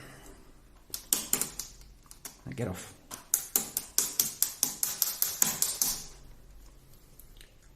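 Metal drive shaft for an RC car being banged through with repeated sharp taps, a fast run of loud, evenly spaced knocks close by, with someone speaking briefly before.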